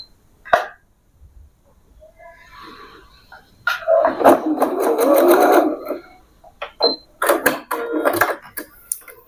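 A sewing machine stitches straight pants in bursts, with short runs of rapid stitching separated by pauses and a brief isolated sound at the start; close and moderately loud.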